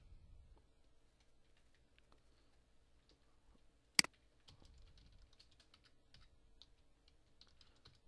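Faint, sparse clicks of a computer keyboard as a search is typed, scattered light keystrokes in a quiet room with one sharper click standing out midway, no talking.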